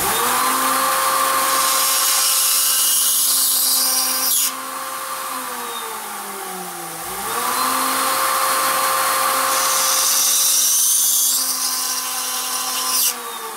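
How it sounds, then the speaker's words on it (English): A power drill whines loudly and steadily as it bites into a car body's metal spot weld, pitch sagging under load, pausing briefly, then grinding on again. "I put a center point on the center of the spot weld for the drill bit to center itself."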